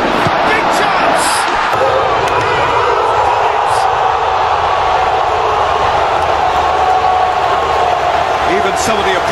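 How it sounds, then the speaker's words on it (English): Steady crowd noise from virtual stadium fans in a PES football video game, Manchester United versus Arsenal in the Premier League, a continuous dense roar and patter with scattered applause-like texture throughout, fairly loud. "Even some of the opposing fans are clapping that."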